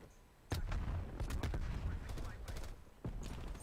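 In a Call of Duty Nuketown match, a frag grenade is thrown and bursts amid rapid gunfire. Loud, sharp blasts and shots crack in quick succession, with a voice faintly underneath.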